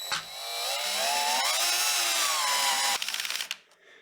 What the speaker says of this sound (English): I've got my drill driver, put it on the lowest torque set